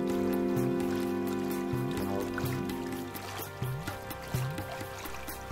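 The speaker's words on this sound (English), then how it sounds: "At each stone, the water whirls and draws in air." Water of a babbling mountain stream swirling and whirling over stones, a steady broadband gurgling rush with recurring low bubbling surges and air drawn in, continuous and fairly close, with no voices.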